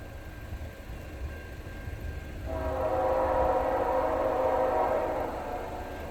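A CN freight train, Q198 led by locomotive 3124, rumbles past at Ladysmith, its steady mechanical roar swelling midway and holding loud to the end, with no voices.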